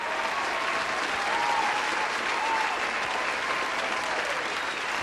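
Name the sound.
applause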